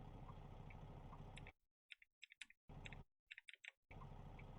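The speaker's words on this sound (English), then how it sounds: "here's your clicking sounds that you hear from your flashers and stuff" Repeating indicator and flasher relay clicks from a truck cab in American Truck Simulator, a steady quiet tick-tock pattern of short sharp clicks over faint engine idle, heard alone without talk.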